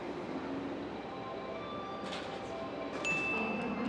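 A new train pulls into a station in Japan, a steady low rumble with faint squeals and hisses of brakes rising near the end.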